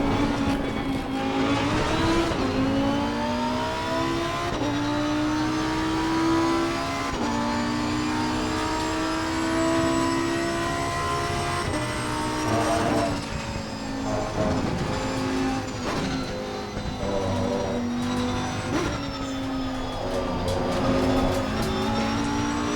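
Race car engine in Assetto Corsa Competizione at Silverstone, a loud continuous high-revving drone that climbs and drops through gear changes, with brief tire noise and no talk.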